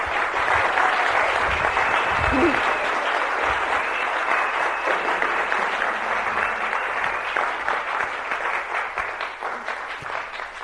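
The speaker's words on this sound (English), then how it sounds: "let's give Michael a big round of applause" Audience at a workshop talk breaks into a big round of applause for the speaker: dense, steady clapping that holds for about ten seconds and eases slightly toward the end.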